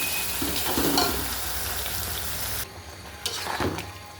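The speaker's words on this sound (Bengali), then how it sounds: "মাংসগুলো সুন্দর করে দিয়ে মরিচগুলো ভালোভাবে কষিয়ে নিতে হবে।" Duck meat fries with chillies in a pan, a dense close sizzle with stirring scrapes that suddenly drops to a quieter fry partway through, followed by a couple of sharp stirring knocks.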